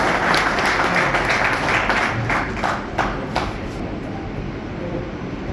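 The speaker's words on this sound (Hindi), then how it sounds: "सभी लोग तालियों से स्वागत करें" A crowd at a Brahmin assembly anniversary celebration in Delhi applauds to welcome Vipin Sharma, steady dense clapping at moderate volume over a hissing, noisy hall background that eases slightly toward the end.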